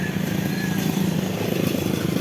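A single motorcycle passing on a road near a church, a steady buzzing engine drone with road rumble, fairly close and without talking.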